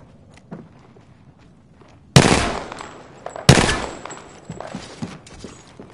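Gunfire in Apex Legends: two sharp, loud shots or short bursts a second apart, each ringing out with a crackling tail, standing out against a quiet background with faint footsteps.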